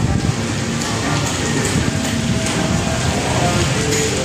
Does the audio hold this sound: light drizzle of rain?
yes